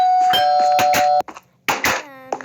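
An electronic doorbell chimes a ringing tonal melody, two bursts separated by a short pause, bright and close, with a final short note trailing off.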